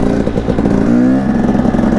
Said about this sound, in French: j'ai pas trop l'habitude de ce genre de moto